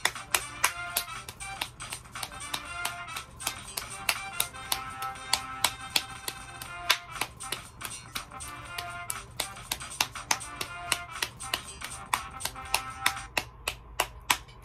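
Quick, sharp claps ring out in a steady, even rhythm for a long stretch. The crisp hits sit close over a faint tonal backing.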